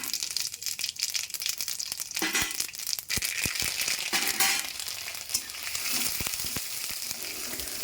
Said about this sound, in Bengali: এবারে গরম সর্ষের তেলে দিয়ে দিচ্ছি তেজপাতা, জোয়ান, গোটা সর্ষে এবং কুচানো আদা।